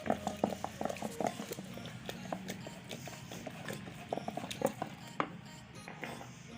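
Saag mixed with flour is stirred in a cooking pot, giving quiet, irregular clicks and soft scraping taps over a low bubbling background.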